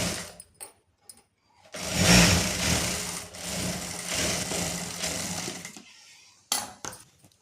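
A sewing machine runs a straight stitch along a straight-cut pant. A few soft clicks come first, then a steady whirring run of about four seconds up close, and it stops with a couple of sharp knocks.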